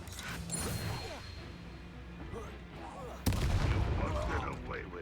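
An ancient magic attack in the Hogwarts Legacy video game: crackling, rumbling magical effects build under faint background sound, then a sudden heavy impact bursts in loudly and rumbles on.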